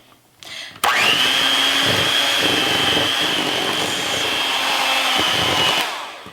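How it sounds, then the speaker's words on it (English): An electric mixer switches on and whirs steadily at high pitch while blending powdered sugar into frosting for a pumpkin spice cake, loud and close, then winds down at the end. "We're going to gradually mix that into our frosting."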